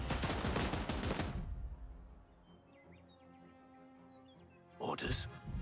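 Gunfire in the video game Last Train Home opens with a dense burst of rapid shots, fades into quieter ambience with faint bird chirps, then a final loud shot cluster near the end.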